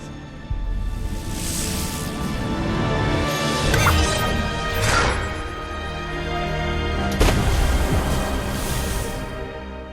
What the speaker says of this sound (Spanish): Po con suma facilidad desvía los disparos de Shen, enviándoselos de vuelta, destruyendo su flota